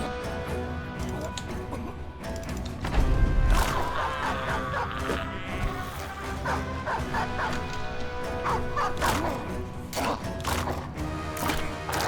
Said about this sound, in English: Dogs doing work.